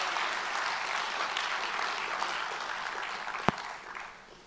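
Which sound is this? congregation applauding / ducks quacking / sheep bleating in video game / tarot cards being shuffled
congregation applauding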